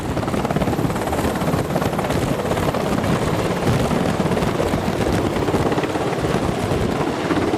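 A military helicopter on an amphibious assault ship at sea gives a loud, continuous rotor and turbine roar that stays steady and close throughout, with no voices.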